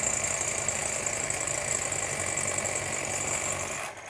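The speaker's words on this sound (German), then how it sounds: "Und man hört, die Rolle läuft noch nach." The roller of a Carrera Digital slot-car tire cleaning machine keeps spinning on after being switched off, a steady close mechanical whir with a high tonal hum that holds evenly, then drops away at the end, with no talking.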